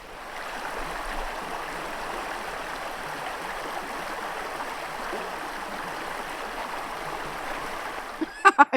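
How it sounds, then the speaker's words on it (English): A creek flows steadily in open country at the end of a cleared fence line, a continuous close rushing burble with no voices, ending with a few soft knocks. "There's a creek down here at the end of it."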